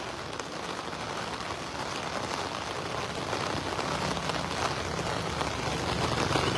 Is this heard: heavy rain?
yes